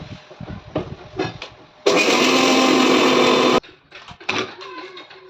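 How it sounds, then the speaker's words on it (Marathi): A kitchen mixer grinder whirs loudly for about two seconds, grinding sesame seeds, poppy seeds and roasted gram, with softer clinks and handling noises before and after. "तीळ खसखस आणि डाळे ना एकत्र मी मिक्सरला काढून घेतले"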